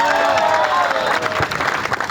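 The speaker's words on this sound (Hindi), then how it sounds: "इनके लिए जोरदार तालियां होगा।" A loud burst of audience clapping mixed with crowd noise and a few cheers rises during a motivational speech, with a voice audible underneath.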